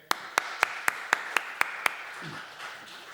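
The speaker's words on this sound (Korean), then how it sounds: "그럼 예수님께 감사 박수 한번 드릴까요?" A church congregation claps in unison, eight sharp, evenly spaced claps about a quarter second apart, then the sound fades into quiet room noise.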